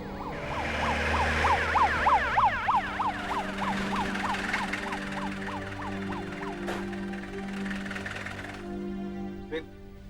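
An ambulance siren wails in rapid rising-and-falling cycles, loud and close at first, then settles into a steadier tone with some faint background noise.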